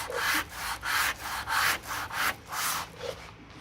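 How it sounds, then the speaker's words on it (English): Hand sanding on the door sill patch panel of a Mk2 Escort, close rhythmic rasping strokes in about eight even back-and-forth passes, with no voices. "Try and sand in a couple of directions."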